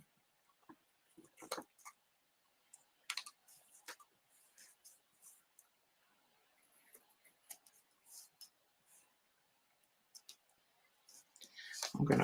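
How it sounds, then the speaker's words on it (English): Scissors trim excess paper from the edge of a handmade greeting card, giving sparse, quiet, close snips and clicks with short pauses, then a louder rustle of handled paper at the end. "Then I'll go ahead and trim this excess off."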